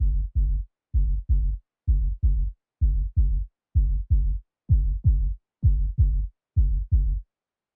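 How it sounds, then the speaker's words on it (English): Kick drum with a softened attack, part of a kick and bass group, plays back in a steady pattern of paired hits, about fourteen thumps in all, low, loud and rounded with no other sound. "So the sound is a little bit softer. We have less of the transient from the kick drum."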